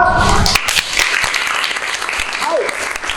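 A high school classroom of students claps together, a burst of sharp, close hand claps that thins into scattered clapping, with a voice heard early on.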